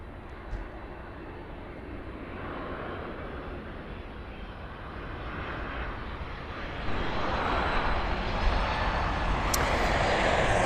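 An Ethiopian Airlines Boeing 777 approaching Miami airport gives a distant, steady jet roar that builds gradually and grows noticeably louder toward the end, with no voices over it.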